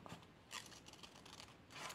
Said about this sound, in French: j'ai pris ces petits ciseaux chez Action. C'est très bien. Et donc, on coupe le long du trait.